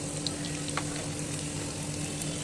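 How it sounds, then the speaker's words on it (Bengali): Chicken nuggets fry in hot oil over medium heat, giving a steady, close hiss with a few faint pops and a low continuous hum underneath. "আর আমি মাঝারি আঁচে ভাজবো যেন খুব মচমচে হয়"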